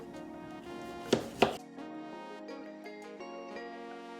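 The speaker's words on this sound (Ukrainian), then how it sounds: "Перець я нарізаю кубиками." Two sharp knife strikes on a cutting board while dicing bell pepper into cubes, close and fairly loud, followed by a few softer taps over a steady background hum.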